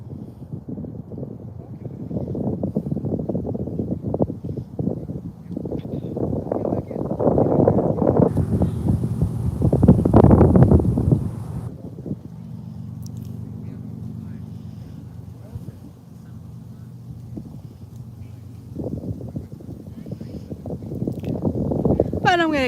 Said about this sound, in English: It's getting a little chilly and windy. It's windy up here.